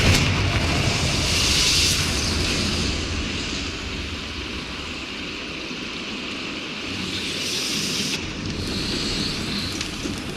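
Confringo blasting spell fired in the video game Hogwarts Legacy, a loud rumbling boom with windy roar that swells near the start and again around the eighth second, sustained and dense throughout with no talk.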